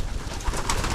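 Pigeons kept at a Pampanga racing-pigeon loft coo softly throughout a one-second stretch, a low, steady murmur with faint scattered bird calls above it and no talk.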